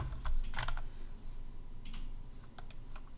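Typing on a computer keyboard while working in After Effects, a quiet run of close key clicks in small irregular clusters with short pauses between them, no voices.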